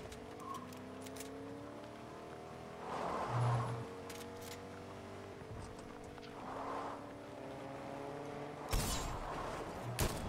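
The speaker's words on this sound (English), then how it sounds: "Got the car." A Fortnite car engine hums steadily, with rising and falling revs across the clip, moderate loudness, and a few surges and thumps layered over the drone.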